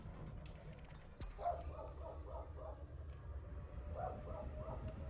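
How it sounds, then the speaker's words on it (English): Dogs bark faintly in the distance in two short bursts of several barks each, under a steady low background hum. "What with dogs barking,"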